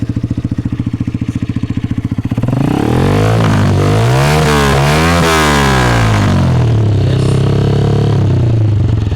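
A modified Honda CBF motorcycle with a smoking engine idles with a rapid, close, loud thump, then revs hard, climbing, holding high and dropping back in one long sustained rise and fall.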